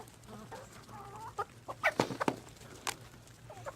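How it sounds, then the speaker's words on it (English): Backyard chickens let out to roam the yard cluck in short irregular bursts, a few sharp louder squawks standing out over a low steady hum, no one talking. "we let them out and let them run around the yard and do what a chicken does"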